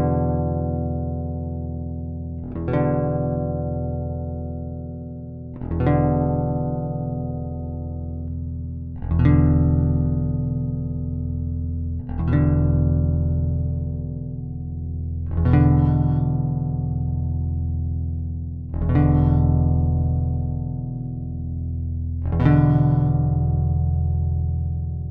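Strummed chords ring out on a Fender American Ultra Jazz Bass with pickups blended mostly toward the bridge, eight evenly spaced strums each sustaining and decaying before the next, played alone at moderate volume.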